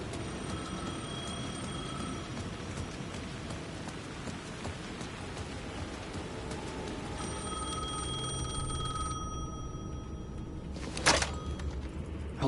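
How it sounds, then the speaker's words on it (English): A telephone in Alan Wake 2 rings through steady rain, its tone faint and repeating as a thin bell-like ring under the downpour, with no voices. "The phone was ringing again."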